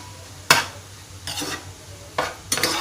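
Insects being stir-fried in a pan with kaffir lime leaves: a few sharp scraping bursts of a spatula at irregular intervals over a low, steady background, fairly close and moderately loud, with no talking.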